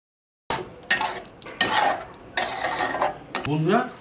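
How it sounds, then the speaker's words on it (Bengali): Paneer cubes dropped into a pan of masala for shahi masala paneer and stirred, giving several loud scraping, clattering strokes of a spoon against the metal pan in separate bursts, with no voices. "এবার পনিরটাকে দিয়ে দেবো।"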